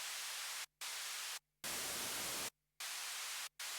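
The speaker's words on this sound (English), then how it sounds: "really like the flavour of the noise that you get from the Mini Moog" Loud hissing white noise from a Minimoog synthesizer cuts on and off abruptly, with short silent gaps between bursts, the hiss sometimes shifting to a duller, rougher texture.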